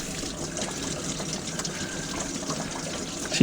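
Pink antifreeze flowing out of a 1976 Mercruiser 120hp engine in a 1976 Starcraft boat, a steady close gushing, trickling stream of liquid running continuously.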